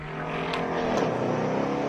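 A Ford Mustang race car climbs the Speed Classic hill course in Cape Town, its engine droning steadily and loud with a rich harmonic roar that swells slightly midway, heard alone without voices.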